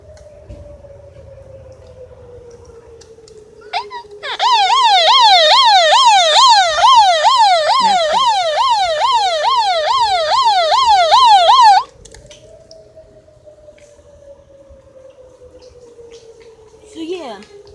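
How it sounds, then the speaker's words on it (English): Wheeling WPS outdoor warning siren sounding a thunderstorm warning tone on the 4th of July, a loud rapid warbling wail that holds steady for about seven seconds before cutting off, with faint background noise around it. "that is what the Wheeling WPS warning tone sounds like."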